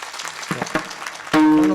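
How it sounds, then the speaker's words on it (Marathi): An audience at a devotional kirtan gathering claps in scattered, uneven bursts for the singer and musicians, then a sustained instrumental note cuts in near the end. "या सुंदर गायक वादकाने एवढं सुंदर काम केल्यावर यांचं टाळी वाजवायचं"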